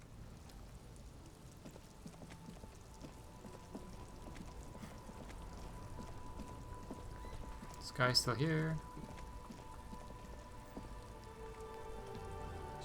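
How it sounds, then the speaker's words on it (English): Steady rain falls over the city of Revachol in the video game Disco Elysium, a constant soft hiss of drops on surfaces under a game soundtrack, with a brief spoken line partway through. "All around you, rain falls on the great city of Revachol."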